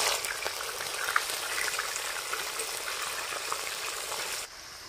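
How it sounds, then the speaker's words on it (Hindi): Chicken frying in hot oil in a kadhai at an outdoor village party, a dense continuous sizzle and bubbling heard up close with no talk, cutting off abruptly near the end. "अब इसमें जो है हमारा तेल गर्म हो चुका है और हम लोग जो है चिकन पहले फ्राई कर रहे हैं"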